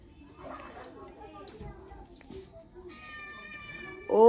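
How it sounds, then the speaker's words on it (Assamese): A house cat meows close by in a few soft, drawn-out cries amid low household noise, ending with a louder burst. "মেকুৰী মোৰ ভাত খোৱা সময়তে আহি পালে"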